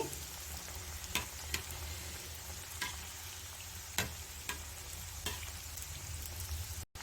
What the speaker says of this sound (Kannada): ಸ್ಟೌವ್ನ ಮೀಡಿಯಮ್ ಫ್ಲೇಮಲ್ಲಿ ಇಟ್ಕೊಂಡು ಫ್ರೈ ಮಾಡ್ಕೊಳ್ಳಿ